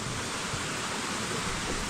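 A mountain stream on Seven Virgins Mountain rushes close by in a steady, dense hiss of flowing water that holds unchanged throughout, with no voices.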